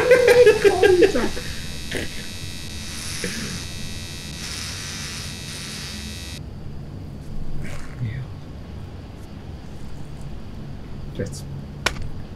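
An electric razor buzzes steadily in the video game Heavy Rain, a thin, even drone for several seconds that cuts off abruptly, followed by quieter clicks and room tone with a short voice at the start.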